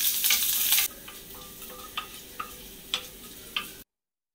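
Dried red chillies, curry leaves and chopped shallots fry in a pan for coconut chutney: a loud hiss of oil at first, then quieter sizzling broken by a few sharp spatula clicks and scrapes.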